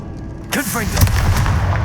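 A Confringo blasting spell goes off in the Hogwarts Legacy game, a sudden loud boom with a swooping whoosh followed by sustained rumbling blast noise.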